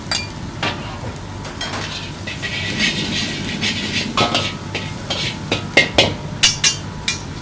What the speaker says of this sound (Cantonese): 跟住再爆香啲葱粒啦